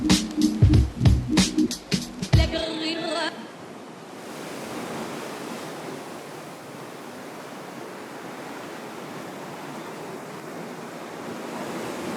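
Ocean surf breaking at a reef surf spot off Nusa Lembongan, Bali, where a right-hand wave barrels: a steady, broad roar of whitewater that holds evenly after a few seconds of louder, choppy sound at the start.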